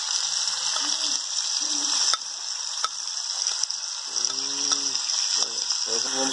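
Cucumber frying in a pan with a steady, bright sizzle throughout, occasional sharp clatters, and a voice speaking over it.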